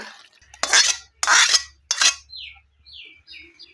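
Cooked potato, eggplant and garlic-greens curry is lifted off the stove with three sharp metallic clanks of pot and utensil in quick succession. Light bird chirps follow in a quiet room.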